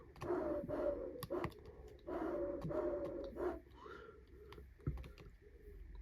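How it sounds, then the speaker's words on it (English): Soft, low bird cooing repeats in short phrases, faint and somewhat distant, mixed with sharp clicks and light tapping sounds. "I can hear a pigeon going."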